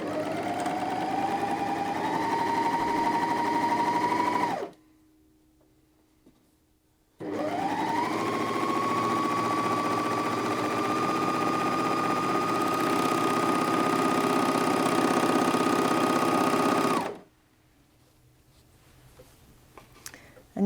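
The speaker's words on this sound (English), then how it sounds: "But let's go ahead and sew another Pintuck." A Janome MyLock 454D overlocker stitching a pintuck runs in two long, steady, close-up bursts of fast mechanical whirring, separated by a few seconds of near silence.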